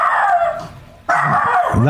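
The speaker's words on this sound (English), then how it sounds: "That would be my pest control guy showing up and my dog freaking out." A pet dog barks and yelps excitedly at a pest control worker arriving at the house, loud and close, with a brief lull between bursts.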